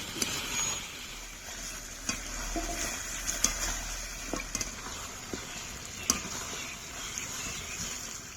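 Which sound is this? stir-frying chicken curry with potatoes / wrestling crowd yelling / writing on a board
stir-frying chicken curry with potatoes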